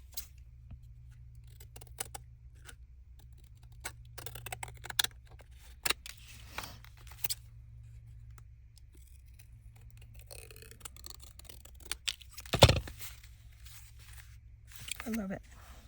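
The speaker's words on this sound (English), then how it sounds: "I need to trim the front." Scissors trimming paper for a folk art mini journal, scattered short snips and paper rustles heard close between quiet pauses, with a louder handling noise near the end and no talk.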